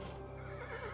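A horse in the video game Kingdom whinnies in a drawn-out, wavering call over a steady background hum.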